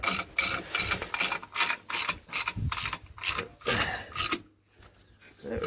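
A hand ratchet tightens a bolt where the gearbox mounts to the engine block of a 2013 Ford Transit during turbo oil feed pipe work, giving repeated close, loud clicking bursts in quick strokes with brief pauses and no talking.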